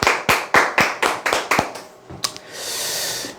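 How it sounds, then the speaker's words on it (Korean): Audience at an insurance sales lecture claps about eight sharp, evenly spaced times, close and distinct, then a short pause and one more clap before a softer blur of applause and crowd noise. "박수!"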